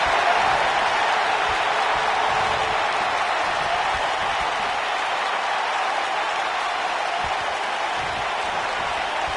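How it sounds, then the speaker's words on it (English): Capacity arena crowd in the WWE 2K19 wrestling video game cheering and applauding in a steady, loud roar that holds without a break, dense and even throughout. "This capacity crowd starting to sense the end is near"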